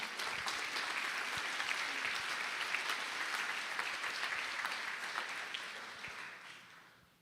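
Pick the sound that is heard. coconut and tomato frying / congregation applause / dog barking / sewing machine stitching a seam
congregation applause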